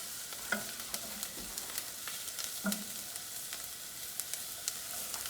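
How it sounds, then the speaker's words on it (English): Thyme and vegetables sauté in a pan with a soft, continuous sizzle. Scraping stirs and light utensil taps recur throughout, close and fairly quiet, with no voices. "I'm going to saute all this for about a minute."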